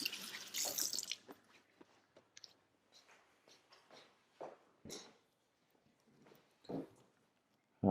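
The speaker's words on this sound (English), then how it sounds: "just wash my hands." Tap water runs and splashes at a kitchen sink while hands are washed, starting with a brief louder gush, then sparse intermittent trickles, drips and clatters at close range.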